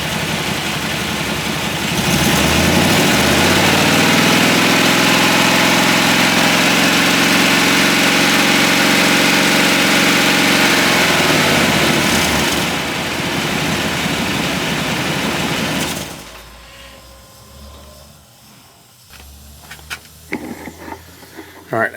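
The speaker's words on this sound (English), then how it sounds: "Let's see once I rev it out." A car engine runs during a DIY exhaust back-pressure test, holding a loud, close, steady revved drone with rising and falling tones for about fourteen seconds before dropping back to idle, then near-quiet with scattered clicks.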